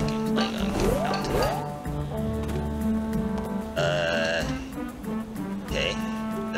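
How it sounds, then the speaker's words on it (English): A goat in the video game A Hat in Time gives a few wavering bleats over steady background game music, and a voice talks at times. "Hello, Mr. Goat. It's a goat."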